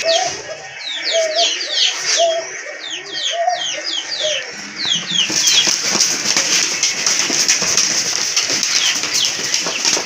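Lotan pigeons at a pigeon seller's coo low and steady while many small birds chirp overhead, with soft wing flutters mixed into the busy, close flock noise.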